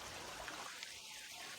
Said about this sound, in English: there's just a trickle of water coming down